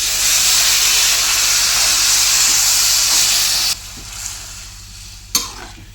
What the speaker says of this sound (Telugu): ఇప్పుడు నీళ్ళు పోసుకోవాలి.